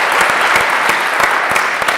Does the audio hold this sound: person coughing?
no